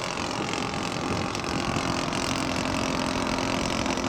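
The engine of a scale model aircraft on a low fly-past about ten to twenty feet above the ground: a loud, steady, buzzing drone held close throughout with no pauses.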